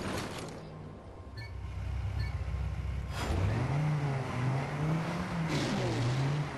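Car engine in the racing game Trackmania 2 Canyon, revving steadily with a rising and falling pitch as the car drives around. The engine is loud and continuous throughout, with no talk over it.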